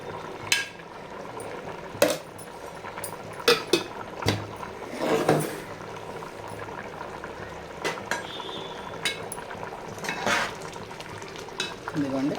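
Homemade ghee melts and sizzles in a pot of vegetable biryani while a utensil stirs and scrapes, giving irregular clanks and scrapes over a soft frying hiss, close and moderately loud.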